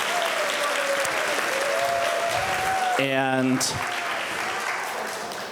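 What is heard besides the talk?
audience applause at school choral concert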